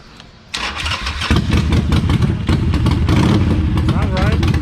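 A Harley-Davidson Sportster motorcycle engine cranks and fires up, then settles into a loud, close, lumpy idle with a deep rumble, while people talk over it.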